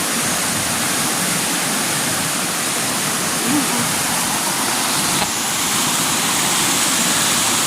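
Strong floodwater rushes past after overnight flooding that swept away logs, a loud, unbroken roar of churning water filling the whole scene.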